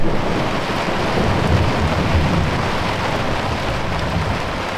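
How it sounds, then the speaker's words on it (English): Heavy rain pours down in a steady roar on Anna Maria Island, Florida, with a deep rumble of thunder rolling underneath and some wind buffeting the microphone. "I'm caught in the middle of a huge downpour and thunderstorm, as you can probably tell."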